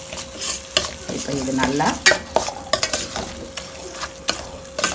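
Rajma curry sautéing in a pan as it is stirred, a loud close sizzle with repeated scraping strokes of the spoon, a voice briefly speaking over it.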